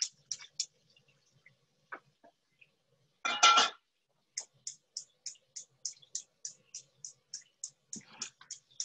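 Light clicks and clinks from a fish spatula on a pan while fish is flipped during a cooking class, a brief scrape burst midway, then a regular ticking series of soft metallic taps, quiet and close.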